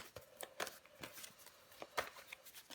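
Tarot cards are handled and laid down, giving soft, faint papery slaps and flicks in an irregular rhythm, close by and quiet.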